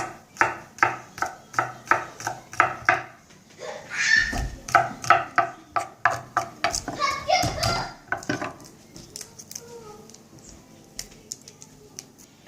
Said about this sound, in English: And now I'm gonna slice the garlic into small pieces, slivered.